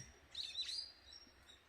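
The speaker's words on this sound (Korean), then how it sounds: "새들도 겨울 준비하느라 지금 막 소리가 엄청 시끄러운데" Birds chirping and twittering in a countryside persimmon orchard in autumn, a short burst of bright, busy calls up close, then thinner chirps fading over a faint outdoor hush.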